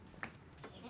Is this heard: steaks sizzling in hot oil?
no